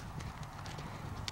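Steady clip-clop of horse hooves at a walking pace, fairly close, with faint background noise and a brief high rattle near the end.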